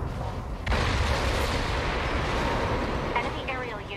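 An enemy aerial unit explodes in the video game NieR:Automata, a loud, dense rumbling blast that fills the whole stretch and slowly fades, with faint game tones near the end.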